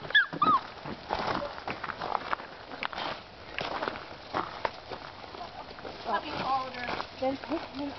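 A puppy whimpers and yelps in short high cries amid rustling, movement and bumps, with people talking nearby at times.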